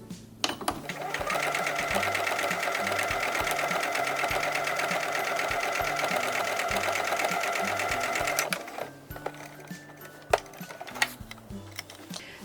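A sewing machine runs steadily for about eight seconds, stitching lines across a quilt block, then stops, leaving a few light clicks and handling sounds.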